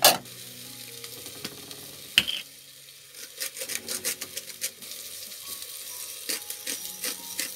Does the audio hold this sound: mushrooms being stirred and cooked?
yes